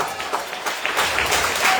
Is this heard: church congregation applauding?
yes